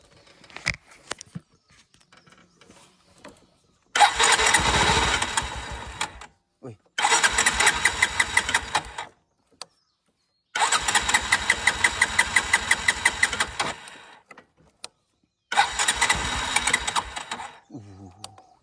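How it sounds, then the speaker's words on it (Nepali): A motorcycle with a low, run-down battery is cranked repeatedly, giving four long bursts of rapid, labored starter chugging separated by pauses, close and loud, without the engine catching. "बाइकै स्टार्ट भएन कि ब्याट्री डाउन भएर बाइकै स्टार्ट भएको छैन"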